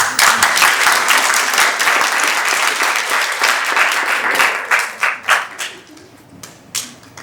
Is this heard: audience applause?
yes